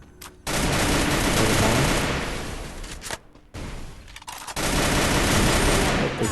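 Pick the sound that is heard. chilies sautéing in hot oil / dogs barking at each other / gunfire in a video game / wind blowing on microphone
gunfire in a video game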